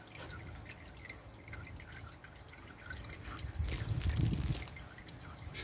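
Engine oil drips and trickles from a Renault during an oil change, faint and close, with small irregular drops that swell into a brief heavier dribble partway through.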